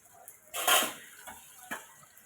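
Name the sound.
stirring spice paste in a pan with a spatula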